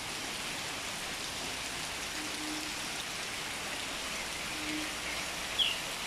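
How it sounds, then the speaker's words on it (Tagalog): Rain falling as a steady, even hiss with no distinct drops, moderately faint and continuous throughout, with no voices present. "It's raining."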